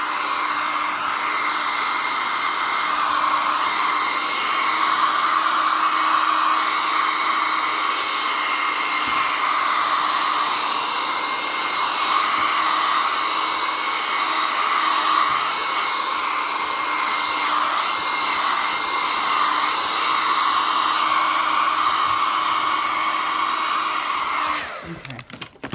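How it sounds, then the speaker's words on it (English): A hair dryer blows steadily on an art page, a loud, constant whooshing hum lasting a long stretch with no talking, cutting off abruptly at the very end. "Let's blow dry this and see what happens."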